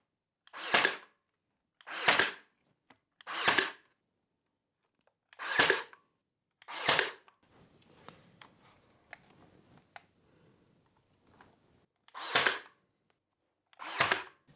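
A brad nailer fires into wooden trim on a wall in sharp single shots, about seven spaced bursts with a quieter stretch of light handling noise between them.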